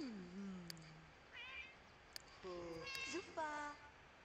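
A pet cat in The Sims 2 life-simulation game meows several times, rising and falling calls scattered with pauses, heard close and clear while a person talks over the game.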